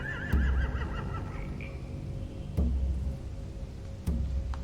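Horses whinny with a rising, wavering neigh, then two heavy thuds land a couple of seconds apart over a dull, steady background in The Walking Dead video game.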